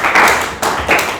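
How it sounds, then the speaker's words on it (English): Audience clapping for people who had been sweeping, with a burst of claps, a short break and a second wave of handclaps, fairly loud and close, no talk over it. "Can you clap for them?"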